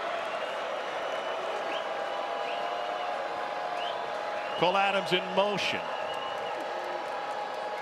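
Pro-Alabama football crowd in a Nashville stadium against Vanderbilt, a steady distant roar of crowd noise under a commentator's voice, with a brief whistle-like burst midway.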